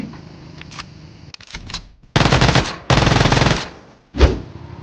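Automatic gunfire in PUBG Mobile, two loud sustained bursts of rapid shots after a few faint earlier pops, followed by one last sharp report near the end.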